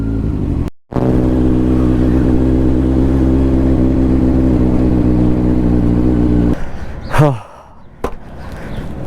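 A Kawasaki Ninja 1000 superbike engine idles and revs steadily at close range in a deep, even drone for several seconds, then cuts off into a short burst of movement and handling noise.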